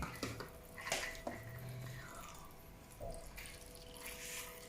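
Water runs from the tap of a toy kitchen sink in a continuous, fairly soft splashing rush, with a few small bursts and gurgles along the way.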